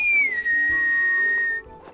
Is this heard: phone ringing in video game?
no